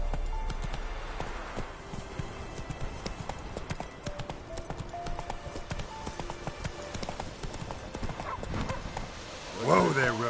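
Roach, the horse from The Witcher 3, gallops in a steady drumming clip-clop of hooves that runs almost the whole way, with game music and a voice over it and a loud whinny near the end.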